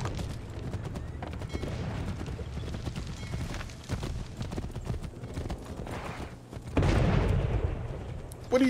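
Horse hooves clip-clop through the battle at Bunker Hill in Assassin's Creed 3, a steady gallop beneath booming cannon fire and rumbling game noise, with a louder burst near the end.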